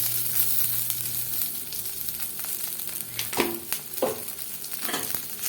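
Curry leaves and vadagam frying in hot oil with asafoetida for kollu rasam, giving a steady close crackling sizzle with a few sharper pops, no talk.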